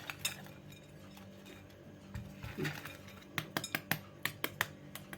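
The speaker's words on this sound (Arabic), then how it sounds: "سامعين صوت القرمشه" Crispy fried chicken pieces give a series of sharp, close crunches and clinks, sparse at first and then quicker in a cluster near the end, over a faint steady background hum.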